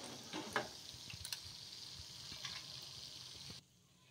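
Pasta kurkure frying in hot oil, a quiet sizzling crackle with scattered small pops that cuts off abruptly near the end.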